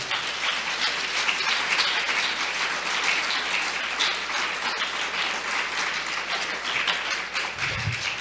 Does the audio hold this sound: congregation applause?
yes